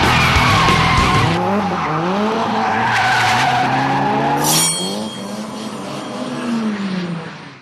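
A car drifting through the streets of Osaka, its tires squealing loudly and continuously over a revving, shifting engine, the screech wavering in pitch and swelling again near the end.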